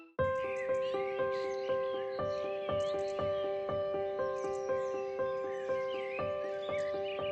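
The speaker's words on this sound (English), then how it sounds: "The sound of the birds woke Mr. Fox up." Cartoon birds call on a bright spring morning in an animated children's story, giving a steady series of repeated, evenly spaced chirping calls over a tonal music-like backdrop.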